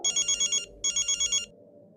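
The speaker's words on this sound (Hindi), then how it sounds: "फोन भी ना गलत टाइम पे बजता है।" A phone rings in two bursts of rapid electronic trilling separated by a short gap, moderately loud and close, with no voices.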